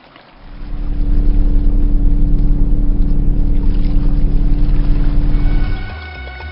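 Loud, steady rumble of a boat engine running close by, starting up and holding for several seconds before cutting down.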